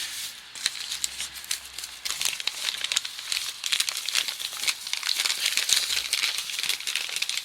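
Crisp crinkling and rustling of packaging as a box holding a JVC GZ-HD3 camcorder is opened, with irregular, close, fairly loud bursts of plastic and cardboard handling and no talking.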